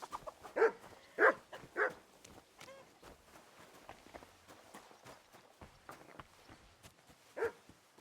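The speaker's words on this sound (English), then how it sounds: "What are you barking like that for?" A dog barks a few times in a medieval village in Kingdom Come Deliverance 2, short moderate yaps spaced apart over quiet footsteps and light ambient noise.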